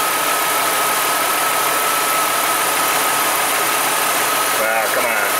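Ford Escape engine idling steadily up close while its electrical pins are jumped, with a constant mid-range hum and a faint whine and no clear drop in speed.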